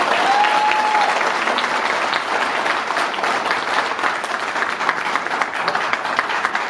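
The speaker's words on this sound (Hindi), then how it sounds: "जिन लोगों ने 2-3 लोगों ने हाथ किया उनके लिए बेशुमार तालियां हो जाए।" Dense, sustained applause from an audience at a health talk, loud and continuous clapping filling the whole stretch without pause.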